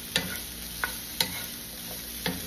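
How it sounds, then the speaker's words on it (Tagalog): Sisig sizzling in a pan, a steady close frying hiss punctuated by four or five sharp scrapes and taps as it is stirred. "Hindi mo na talaga kailangan ng mantika kasi nagsisisling na siya."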